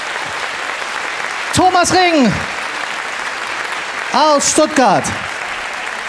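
Audience applause at a poetry slam in a club venue, steady moderate clapping running throughout while a host's voice speaks over it twice.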